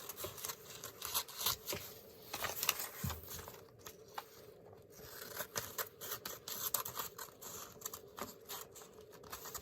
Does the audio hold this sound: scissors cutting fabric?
yes